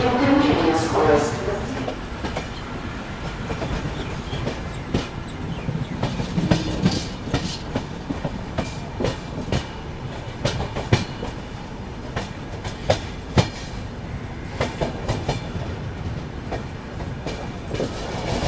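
Trains on parallel tracks during an overtake at Ballabhgarh station on the Goa Rajdhani journey, with steady rumbling rail noise and repeated clickety-clack wheel beats throughout, with faint voices in the background.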